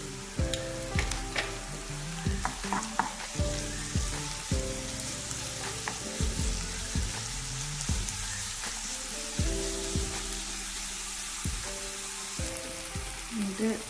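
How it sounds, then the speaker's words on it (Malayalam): Onion frying with green chilies and ginger-garlic paste crackles in a steady, loud sizzle, while repeated spoon scrapes and clinks against the pan come close up throughout. "ഈ അരിഞ്ഞു വെച്ച രണ്ട് പച്ചമുളകും ഒരു ടേബിൾ സ്പൂൺ ഇഞ്ചി വെളുത്തുള്ളി പേസ്റ്റ് ഇട്ടിട്ട് നല്ലോണം വഴറ്റുക"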